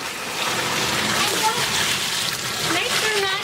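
Water mixed with bleach is poured over dry rock, making a steady, close splashing and trickling wash that runs without pause for a few seconds.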